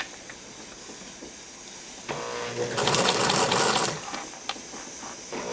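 A sewing machine stitching a seam in fabric, starting with soft scattered clicks, then a fast whirring run of stitching for about a second before dropping back to lighter taps, close by.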